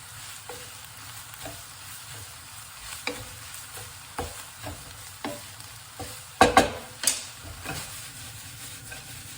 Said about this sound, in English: Get some heat through those vegetables and those onions.